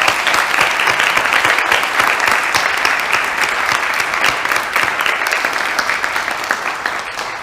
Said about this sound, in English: us today one more round of applause